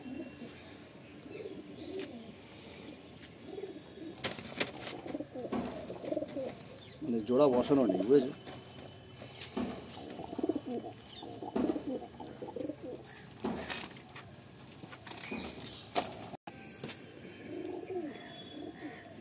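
Pigeons coo softly in a loft full of birds kept for sale, throaty calls rising and falling under nearby conversation that runs through most of the stretch.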